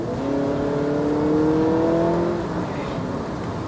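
Honda Accord RS e:HEV hybrid sedan in sport mode, its engine roar rising in pitch as it revs, a loud steady drone lasting a few seconds before easing off, heard without talk.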